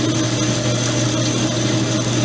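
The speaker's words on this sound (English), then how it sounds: "take this to the bandsaw and cut out the profile on it, get it closer down to size" A bandsaw slowly cutting 1/8-inch aluminum plate for a forming die, giving a steady mechanical whine with a constant low hum and faint high ringing tones, heard close throughout.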